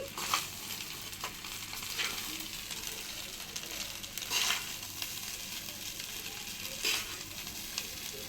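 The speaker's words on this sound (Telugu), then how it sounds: "అన్నీ వేసుకుని ఇలాగా మిక్స్ చేసుకుంటున్నాను" Egg fried rice being mixed in a pan with salt, chili powder, garam masala and turmeric, giving a soft steady sizzle broken by occasional scraping strokes of the spoon, close but fairly quiet and with no voices.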